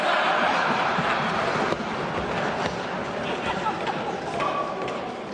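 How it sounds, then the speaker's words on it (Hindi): Loud, sustained applause with possible desk-thumping fills a parliamentary chamber, a dense crowd roar running throughout with voices mixed in. "बजाओ जोरदार ताली।"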